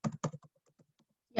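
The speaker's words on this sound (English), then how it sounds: "I'm just typing over here." Keys tap on a computer keyboard in a few quick bursts of clicks, close and quiet, with short pauses between.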